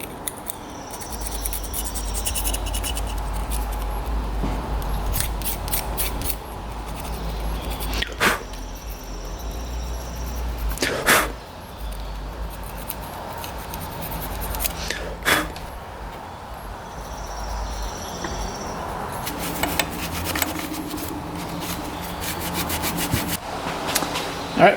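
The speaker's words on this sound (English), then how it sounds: "Then quick clean off the surface with a razor blade here." Razor blade scraping old gasket material off a dirt bike engine surface in short rasping strokes, close up over a low background hum, with a few sharp clicks between passes and no talking.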